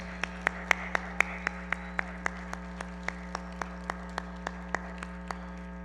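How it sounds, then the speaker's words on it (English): Sparse, evenly spaced claps at a university hall grand opening, a sharp slap every half second or so over a steady low electrical hum, thinning slightly toward the end. "please join me now collectively in giving them a round of applause"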